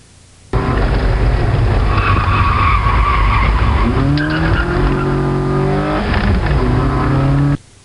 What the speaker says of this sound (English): you'll be able to hear the engine drop down in RPMs